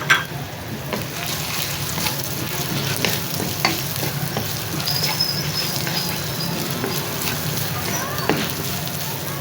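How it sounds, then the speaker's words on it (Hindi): Whole spices roast in a pan with softened onion and ginger-garlic paste, giving a steady close sizzle and crackle with stirring scrapes throughout, and a few brief louder clicks from a utensil. "साथ ही रोस्ट कर लेते हैं ज़रा साबुत मसाले।"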